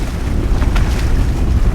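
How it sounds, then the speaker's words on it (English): Strong wind sweeps over a sailboat running under jib and mainsail, with no engine, a loud, close, continuous rumble of gusts buffeting the microphone, alongside faint water noise. "It's really windy. We got a lot of wind for today."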